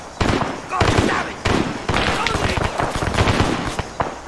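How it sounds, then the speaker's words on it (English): Rapid bursts of automatic gunfire in an Arma 3 firefight, loud and close, with short pauses between volleys and sharp cracks layered over each other. "Who are you shooting at?"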